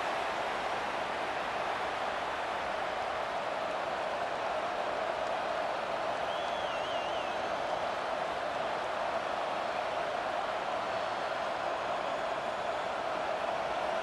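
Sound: home stadium crowd cheering at college football game

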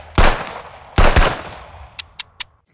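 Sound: gunshot sound effects from Film Riot's Total Guns bundle

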